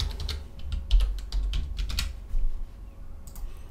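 Login details typed on a computer keyboard, a quick run of close, crisp key taps in uneven bursts, then a brief pause and a few final strokes, with no talk.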